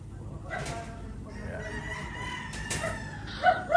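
A rooster crows nearby, a drawn-out call rising and falling over a soft background murmur, with clucking chickens around it.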